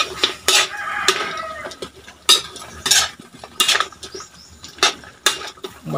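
Spoon or spatula scraping and knocking against a pan while thick ube halaya is stirred until it dries out, giving irregular clattering strokes that ring close and clear, with faint background sounds between them.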